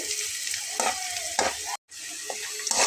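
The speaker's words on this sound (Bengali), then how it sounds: "তারপরে দিয়ে নেব হাফ চা চামচ পরিমাণ গোটা জিরা দিয়ে খুব ভালোভাবে এটার সঙ্গে ভেজে নেব" Cinnamon and whole cumin fry in hot oil for a potato masoor dal, a close, crackling sizzle with stirring scrapes, broken by one brief silent gap.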